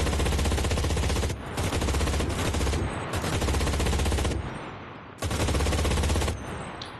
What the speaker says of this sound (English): it's an MG42